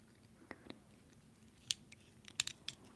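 Scissors clicking shut during a whispered ASMR session: a handful of crisp, close metallic snips, spaced irregularly and then bunched near the end, over a quiet hushed background.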